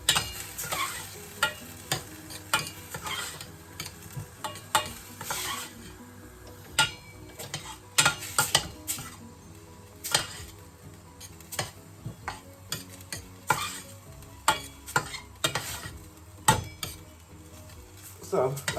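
Fish stew with pepper paste cooks in a pot with a steady low sizzle, while a spoon clicks and scrapes against the pot in frequent sharp taps throughout.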